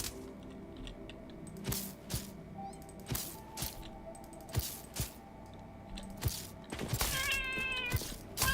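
A cat in the video game Satisfactory meows repeatedly in short bursts over a low mechanical game hum, the calls rising into a longer caterwaul near the end.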